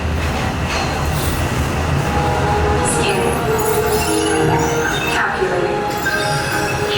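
Walt Disney World Railroad train at Magic Kingdom rolling along, a steady loud rumble of wheels and carriage noise with occasional squeals and clanks, with announcements spoken over it.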